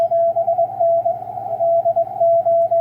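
Amateur radio receiver on a 40 meter vertical antenna with no filters, giving a steady hiss and hum under a sharp continuous tone that keys on and off in Morse-like bursts.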